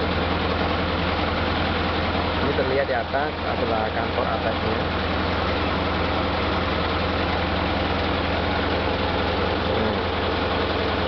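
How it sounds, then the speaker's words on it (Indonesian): A forklift engine runs at a steady, loud, droning idle in an office warehouse, a constant low rumble throughout while someone talks over it. "soalnya emang agak sedikit berisik ya, namanya juga forklift."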